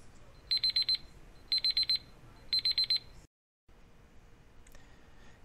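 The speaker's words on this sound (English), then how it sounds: "Now I'm going to move it down close to 0 just so I can hear what the chime sounds like at the end." A PowerPoint countdown timer plays its end-of-countdown chime: three short bursts of bright, rapid electronic beeping, evenly spaced about a second apart, clear and alone before a brief silence.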